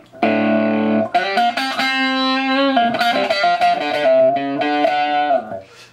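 Electric guitar played through a Digitech Crossroads pedal with the gain at minimum, giving a fairly clean, lightly driven tone. Sustained chords and single notes ring loud and close, then a short melodic run fades out.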